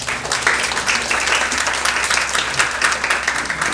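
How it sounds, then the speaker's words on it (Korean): Audience applause fills the opening ceremony of the 2023 Busan Youth Panel Conference, a steady, dense wash of many hands clapping held at an even level for the whole stretch. "박수 부탁드립니다."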